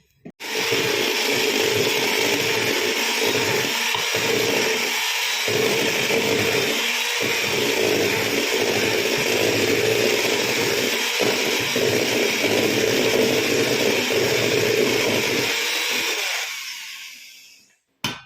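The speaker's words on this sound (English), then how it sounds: "So I might also show how much nicer you can get it with an electric egg beater" An electric egg beater whirs steadily through chocolate cookie dough, a loud continuous motor drone with slight rhythmic bumps as the beaters churn, running for about sixteen seconds before cutting off abruptly.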